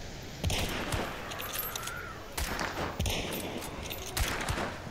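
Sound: rifle shots fired through a scope in Hunt: Showdown, video game

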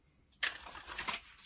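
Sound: shuffling tarot cards

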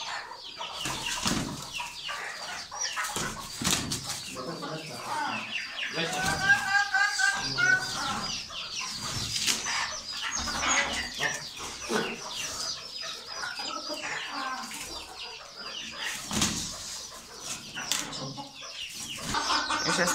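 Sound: rooster and chickens clucking

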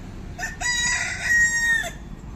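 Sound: rooster crowing

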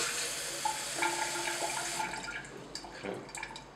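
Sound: hot water poured into a beaker

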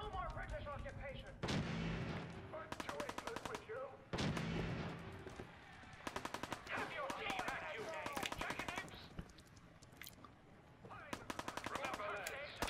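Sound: gunfire in the video game Fallout 4

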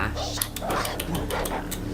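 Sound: dog barking

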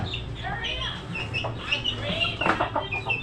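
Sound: chickens clucking

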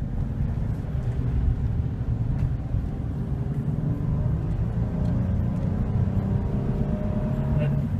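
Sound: 2014 Chevy Silverado 1500 4.3 V6 truck accelerating

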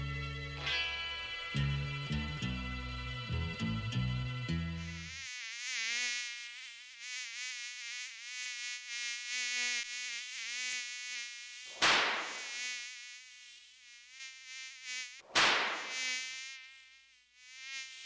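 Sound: mosquitoes buzzing

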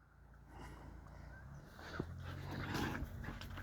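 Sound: dog whimpering

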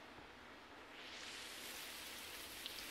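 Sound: rain in a video game

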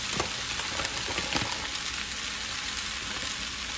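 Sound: stir-frying vegetable noodles in a pan

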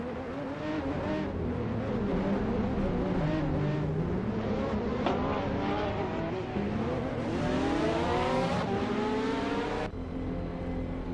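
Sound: AI-driven GTS race cars at Spa-Francorchamps, racing video game

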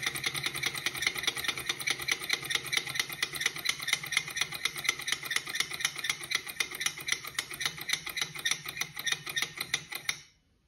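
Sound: Stirling engine running, slowing after burner is put out

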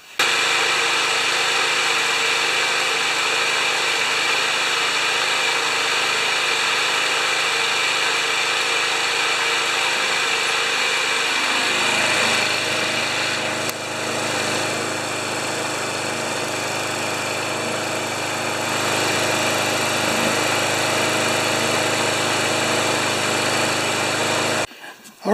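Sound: Tecumseh 6.5HP VLV lawn mower engine running

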